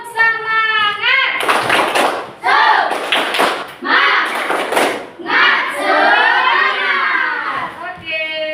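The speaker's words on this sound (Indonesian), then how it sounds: "Ayo, tepuk semangat dulu kita." Schoolchildren in an Indonesian classroom doing a rhythmic spirit clap, sharp bursts of clapping alternating with loud shouted chanting voices, close and lively.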